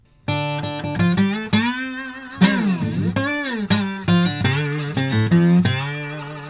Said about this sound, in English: Another cool feature of playing slide on a 12 string is being able to access doubled octave sounds